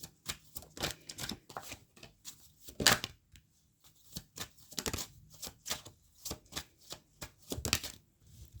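Tarot cards shuffled and handled in quick, close bursts of riffling and slapping, irregular crisp flicks spread across the clip with short pauses between, no voices over them.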